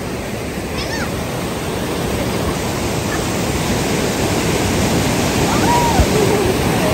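Fast, heavy river water rushes in a steady broadband roar that fills the whole stretch, continuous and close with no clear breaks, and a few faint voice-like traces sit under it.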